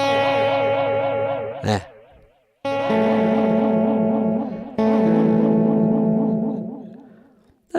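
Electric guitar run through a Waves H-Delay ping-pong delay at a slow rate, loud sustained chords with a wavering, warbling pitch modulation and echoing repeats, in three bursts separated by short gaps.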